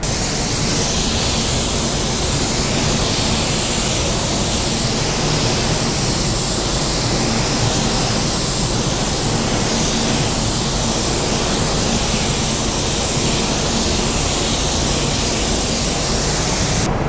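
A paint spray gun lays down the final coat on a car panel, a loud, continuous, even hiss of atomized spray that runs unbroken from start to finish.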